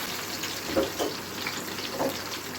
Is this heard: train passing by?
no